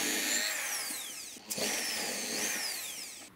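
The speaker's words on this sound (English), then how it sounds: "I'll start by drilling a hole at each end" Power drill boring holes through a Kydex sheath, high whining spin that drops in pitch under load, a short pause, then a second run, close and loud.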